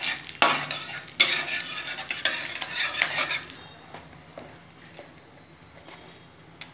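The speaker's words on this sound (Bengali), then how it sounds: "তেজপাতা, 2টো শুকনো লঙ্কা, এলাচ, দারচিনি আর লবঙ্গ আর গোটা জিরা ফোড়ন করে নেব।" Whole spices (bay leaf, two dried red chillies, cardamom, cinnamon, cloves and cumin seeds) fry in oil for an egg curry tempering: a short, close sizzle with clinking spoon-stirring that settles into quieter, sparse taps.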